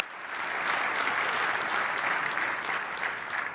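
Sustained applause from an audience at a sales conference for the speakers who came on stage, steady and fairly loud throughout with no voices over it.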